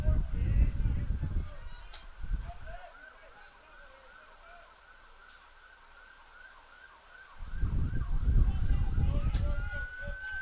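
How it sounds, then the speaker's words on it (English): An ambulance siren wails in the distance during a college baseball game between Washington and Idaho, a faint repeating rising and falling tone that carries through the whole stretch while a commentator talks over it at the start and end. "as we've got an ambulance streaming by."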